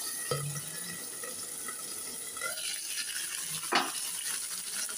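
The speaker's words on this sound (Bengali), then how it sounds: "এবার এটাকে আমি একটু ঢাকনা দিয়ে হালকা আঁচে ভেজে নিচ্ছি, সিদ্ধ হোক।" Tomatoes and four garlic cloves fry in mustard oil under a lid on low heat. A faint, steady sizzle sounds, with a few brief clinks and scrapes of utensils.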